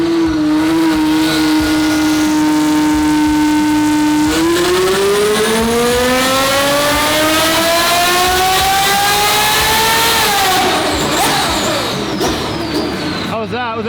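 A twin-turbo Ferrari F12 V12 revs hard on a dyno, holding a steady note, then climbing in pitch for several seconds before easing off, loud and close, with a voice talking over the engine.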